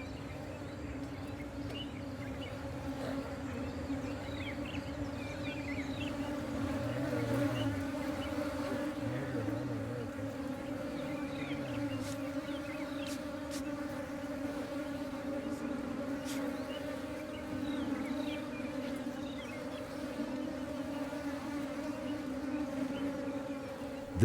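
Dense, continuous buzzing comes from a crowded wild honeybee nest, with many bees droning close by at a steady level. Faint outdoor background sounds sit underneath for the whole stretch.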